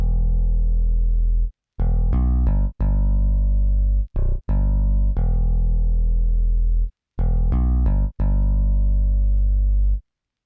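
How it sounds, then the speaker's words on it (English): Bass synth from the Aviator plugin in FL Studio, a loud, clean, sustained bass line of held and short staccato notes separated by brief silences, playing alone. "I got that bass from Aviator."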